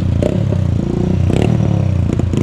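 Several motorcycles cross close by on a busy road, loud engine drone with revving surges and clattering, scraping passes in quick succession, no talk.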